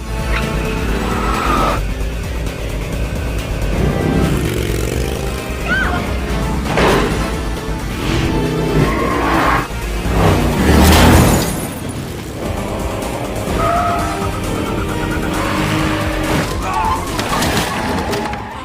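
Action-film chase scene with a car and a borrowed gang motorcycle: roaring engines, squealing tires and skids, punctuated by loud crashing impacts and booms, with a dense, continuous, energetic mix and some voices under it.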